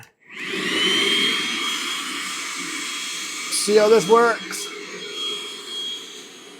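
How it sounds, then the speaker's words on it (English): The vacuum pump on a maple syrup evaporator starts up with a rising rush, then runs as a loud, steady whooshing drone, while someone talks briefly over it. "We're gonna fire up the vacuum. Plug your ears."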